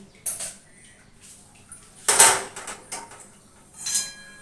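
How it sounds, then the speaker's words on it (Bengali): A karahi wok being washed by hand, with a few separate bursts of metal scraping and clattering against a quiet background, the loudest clatter in the middle of the clip and a shorter one near the end. "ভালো করে কড়াইটা আমি আগে ধুয়ে দিই"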